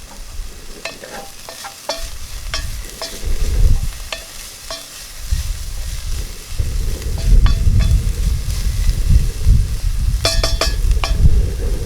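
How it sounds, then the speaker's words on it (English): Onions and green pepper sizzling in a Dutch oven outdoors on a windy day, a close steady fry broken by scraping stirs and a few metallic clinks of the utensil against the pot. "Getting a little bit of a sweat on those, on the onions and the green pepper."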